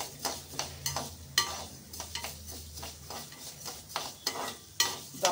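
Urad dal fries in oil inside an old cooker, a soft sizzle under repeated rhythmic scraping strokes of a spoon against the metal, close and fairly quiet.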